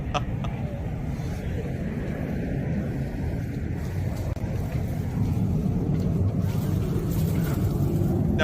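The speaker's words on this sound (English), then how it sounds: "We hear the sound of the jet engine still." A Russian jet engine gives a steady, broad roar that rises slightly toward the end. The sound is continuous with no clear breaks.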